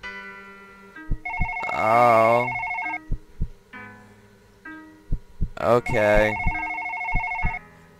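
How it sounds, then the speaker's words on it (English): A telephone rings insistently in a horror video game, bursts of harmonic ringing recurring across the stretch with sharp clicks between, loud and close while a player exclaims briefly. "Shut up, phone!"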